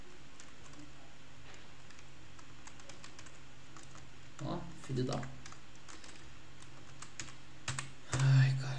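Keystrokes on a computer keyboard come in scattered, quiet clicks and short bursts, with a man briefly exclaiming partway through.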